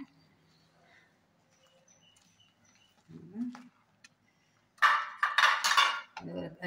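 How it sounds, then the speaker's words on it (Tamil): Idli steamer vessel and plates handled in a kitchen, with a brief low clank near the middle, then a louder burst of metallic clattering and scraping toward the end. "நான் இட்லி பாத்திரம் வச்சுருக்கேன்."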